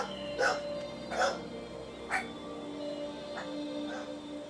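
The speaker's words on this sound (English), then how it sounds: "And the dog's going off" Dog in the online game Guild Wars Reforged barks in four or five spaced yelps, moderately close but quiet, over a faint steady game hum.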